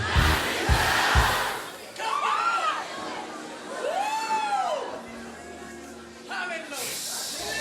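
A church congregation shouts together at a prophet's service: loud, dense crowd bursts at the start and again at the end, with a single preacher's voice talking in between.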